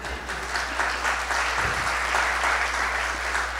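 Applause from a church congregation fills the space, a steady, dense wash of many hands clapping that holds evenly throughout, with no one speaking over it.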